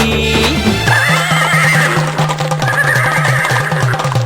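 A white horse at a temple festival neighs loudly and close, a long shrill whinny that rises then wavers, over a steady droning musical backdrop and faint hoof-like clopping.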